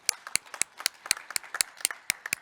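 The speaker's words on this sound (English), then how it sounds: "We shall applaud for her" Scattered hand claps from an audience at a World Habitat Day celebration and research launch, sharp separate slaps in a loose, uneven rhythm, fairly close and clear with no talking.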